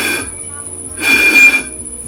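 Air blown across the mouth of a Sabra bottle gives two short, breathy resonant tones, one at the start and a stronger one in the middle.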